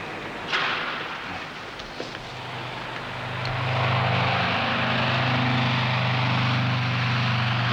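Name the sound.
airplane in flight from Christchurch to the Chathams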